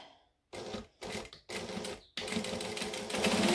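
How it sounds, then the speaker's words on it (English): Close by, a sewing machine top stitches a backpack pocket in three short bursts and then a longer steady run, its rapid mechanical clatter separated by brief pauses. "And then I'm just going to top stitch both of these"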